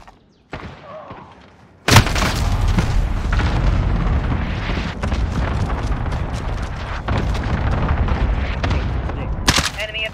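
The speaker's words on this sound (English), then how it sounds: "Enemy cluster strike incoming." A cluster strike in Call of Duty Modern Warfare multiplayer hits with a sudden loud boom, followed by a sustained roar of rumbling explosions and scattered blasts, with a voice briefly heard before the impact.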